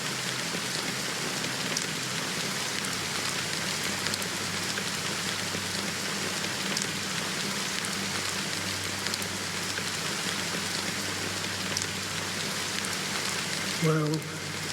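Steady, dense rain patters continuously on a surface, an even hiss throughout, with a brief faint voice near the very end.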